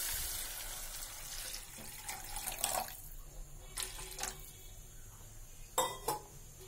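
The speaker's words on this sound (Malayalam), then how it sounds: "ഇനി ഇതിലേക്ക് വെള്ളം ഒഴിച്ചെടുക്കാം." Water is poured into a cooking pan on a stove to make Maggi noodles, a faint running trickle mixed with light clinks and taps of metal cookware.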